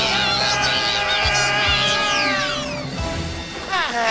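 A cartoon cat meows in a loud, busy animated soundtrack, with several pitched, gliding cries rising and falling over music and effects, close and prominent.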